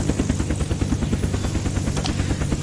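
A helicopter in the Unturned video game flies close by, its rotor chopping in a loud, fast, steady pulse over a dense engine roar, with no talk.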